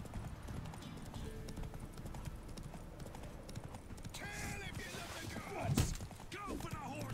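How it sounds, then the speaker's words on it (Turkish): Hoofbeats of Roach, Geralt's horse in The Witcher 3: Wild Hunt, clopping steadily and close throughout, with a brief whinny near the end and someone talking over it. "Lan benim atım kaçıyor."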